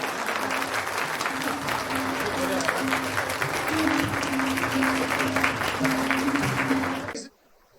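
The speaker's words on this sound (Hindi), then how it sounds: "जोरदार तालियां।" Steady, dense audience applause fills a hall at a formal Indian event welcoming a defence minister, with a voice speaking over the clapping and a tone sounding intermittently before it cuts off abruptly near the end.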